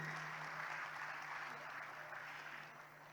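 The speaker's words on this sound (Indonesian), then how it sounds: "Boleh kita beri tepuk tangan Bapak Ibu?" An audience at the grand launch event of MCC Kota Malang gives sustained applause, steady and dense throughout, tapering slightly toward the end, with a low steady hum beneath.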